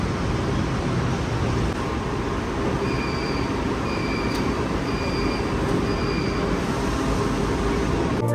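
A KTM commuter train pulls into a Kuala Lumpur station, a steady loud rumble of wheels and motors on the rails with a few short high tones over it, and no one speaking.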